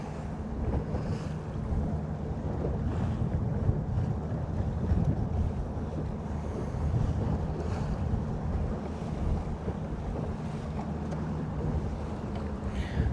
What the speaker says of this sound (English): this side of the causeway is a little choppy